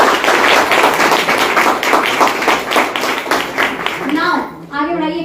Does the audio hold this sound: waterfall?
no